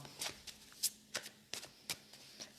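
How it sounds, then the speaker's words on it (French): A deck of oracle cards is shuffled by hand, giving a quick series of crisp riffling flicks and soft slaps at close range, with no talk. "Oui, on va d'abord mélanger."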